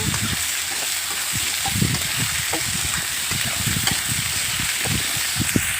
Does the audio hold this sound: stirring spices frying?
yes